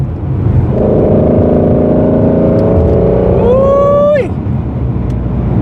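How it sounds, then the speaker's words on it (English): Ford Mustang Shelby GT350 with its flat-plane-crank V8: a loud, close engine drone holds steady, then revs sharply upward in a rising wail before cutting off, leaving a low idle rumble. "The sound of this exhaust is perfection."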